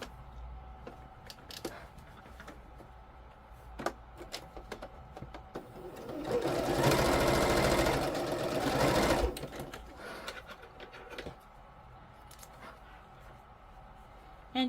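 A sewing machine runs a steady, close stitching burst for a few seconds across kilt fabric, with quieter handling noises before and after.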